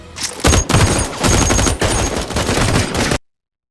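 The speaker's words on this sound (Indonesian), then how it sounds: "polisi pun menghujani Alfonso dengan tembakan" Rapid bursts of police gunfire in a film rattle in heavy volleys, loud and close, overlapping shots for about three seconds before cutting off to silence.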